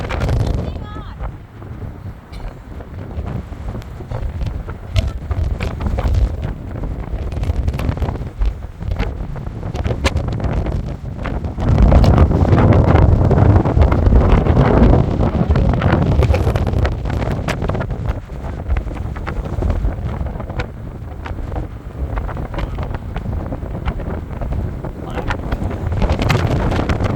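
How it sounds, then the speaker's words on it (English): Strong wind on a windy Fourth of July outing, a loud continuous roar buffeting the microphone and surging louder midway, with people talking now and then underneath. "This wind would rip the kites apart."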